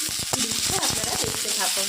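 Mixed winter vegetables with cabbage get stirred in a pan with a little oil, turmeric, salt and sugar, a loud close sizzle with scraping turns under someone talking throughout.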